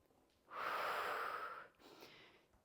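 A long, forceful exhale during a Pilates and barre workout, heard close and alone, followed by a shorter, softer breath.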